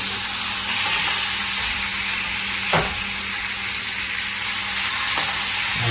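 Bacon strips sizzle and crackle steadily in a frying pan, a dense continuous hiss, with a couple of brief scraping thumps as pieces are flipped midway and near the end.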